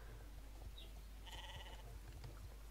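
Sheep in the Star Stable Online video game give a few short, faint bleats over a steady low hum of game ambience.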